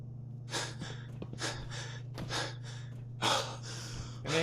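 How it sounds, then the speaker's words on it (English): A Fallout 4 character breathing heavily: repeated sharp, close gasps and breaths in an uneven rhythm over a steady low hum. "Gonna hear a lot of heavy breathing from my character"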